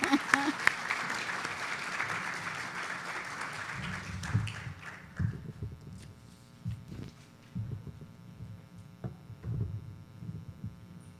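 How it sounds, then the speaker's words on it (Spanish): Audience applause welcoming a speaker at a forum hall, loud clapping for about five seconds that fades into room hum and scattered faint taps, with talk over it. "a quien recibimos con un fuerte aplauso caribeño"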